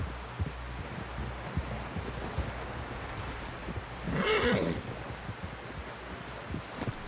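A horse whinnies in Red Dead Redemption 2, a sharp, fairly close neigh that rises midway over a low rumble and soft hoof and rustling sounds.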